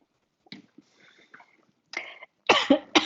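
A man coughs several times in short, harsh bursts close to the microphone. They follow a few quieter breathy sounds.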